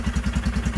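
A Royal Enfield Himalayan engine idles just after an oil and filter change, a close, even single-cylinder thump repeating about ten times a second with light mechanical clatter over it.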